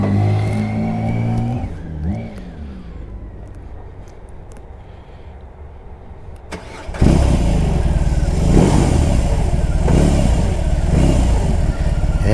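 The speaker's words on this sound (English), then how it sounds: "give it a little revs, the bike jumps a bit to the left" A BMW R18 B boxer engine idles with a throaty rumble, then suddenly roars louder as the throttle is blipped in repeated revving surges, close and loud.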